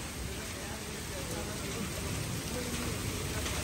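Heavy rain pours down in a dense, unbroken hiss that stays loud and close from start to finish, with no letup in intensity.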